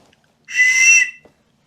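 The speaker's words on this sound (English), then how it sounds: "We also have a whistle here." A survival suit's whistle gives one loud, close, steady shrill blast of about half a second, cutting off cleanly into silence.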